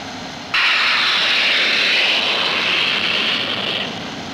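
An RAAF Canberra bomber in the Vietnam War roars past with a loud, steady jet-engine rush that rises abruptly, holds for a few seconds and then slowly eases off.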